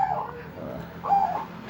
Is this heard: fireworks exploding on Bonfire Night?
no